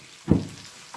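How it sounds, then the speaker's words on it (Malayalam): Chicken frying with onions in a pan for biryani gives a single short sizzling burst, close and moderately loud, then a faint hiss trailing off. "നന്നായിട്ട് ഫ്രൈ ചെയ്യാം ചിക്കൻ"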